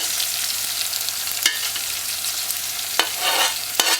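Thyme and pimento seeds sizzling in a hot pan for a Jamaican salt mackerel run down, with a steady fry broken by a few sharp scraping stirs, close and without talk.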